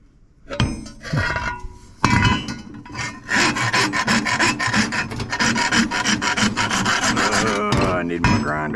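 Scrap metal being scratched and rasped to tell copper from brass, a close, loud, continuous gritty filing and scraping with a few clinks and knocks.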